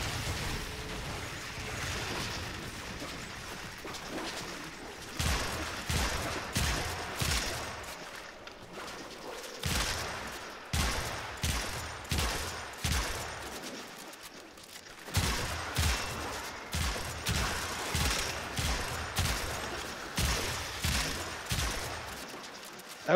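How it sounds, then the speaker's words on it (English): Sci-fi weapon gunfire in the video game Warframe during a survival mission, a steady run of rapid, evenly spaced shots in bursts with brief pauses, loud and close throughout. "That was some good shooting."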